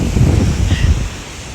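Ocean waves wash onto the beach at Chelsea on the Mornington Peninsula as a close, rumbling surf with wind noise buffeting the microphone. The roar eases slightly toward the end.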